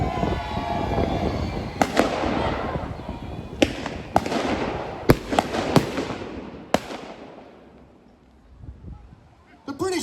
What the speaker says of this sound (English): the submarine commander decides to finish off the British Pride with his deck gun